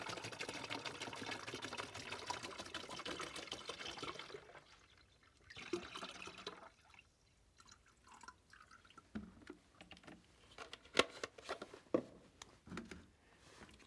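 A quart of boxed water pours onto deco beads in a container, a soft splashing stream for a few seconds, followed by quieter drips, rattles and light handling clinks.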